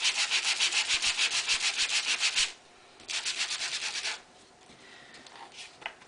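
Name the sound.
sanding cardstock by hand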